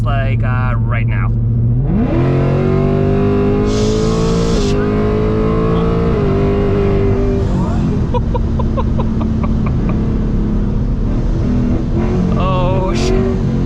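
Supercharged ESS S650 Mustang GT V8 of about 800 horsepower accelerating hard from inside the cabin, a loud rising engine roar with supercharger whine and shifts, under excited talk from the occupants.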